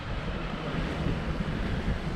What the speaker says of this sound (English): The sea's very calm, which you wouldn't expect, I suppose, being so windy